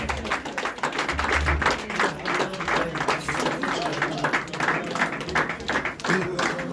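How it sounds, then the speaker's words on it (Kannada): An audience at a memento presentation claps steadily and densely, with the applause going on without a break throughout. "ಚಪ್ಪಾಳೆ ಬರ್ತಾನೆ ಇರಲಿ ನಿರಂತರವಾಗಿ"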